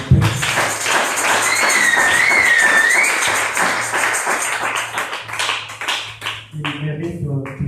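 Church congregation applauding, a dense sustained wash of clapping across the room that fades toward the end, with a voice speaking over it.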